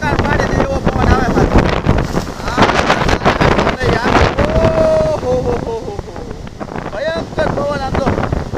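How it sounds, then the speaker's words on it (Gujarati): Fierce storm wind roaring through a village during heavy wind and rain, loud continuous buffeting and gusts hitting the microphone, with someone talking excitedly over it throughout. "જેવા તેવા મકાન પાડી દે એવો પવન આવે"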